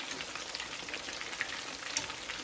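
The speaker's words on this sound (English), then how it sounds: "Okay, it's frying real good, y'all." Catfish pieces fry in hot oil over medium-high heat, giving a steady, dense crackle and sizzle with a few sharper pops, heard alone without talk.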